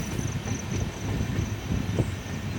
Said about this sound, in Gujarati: મિત્રો અમારી ટ્રેનની સ્પીડ એકદમ ધીમી કરી દીધી છે કારણ કે ગોધરાનું રેલવે સ્ટેશન આવી ગયું છે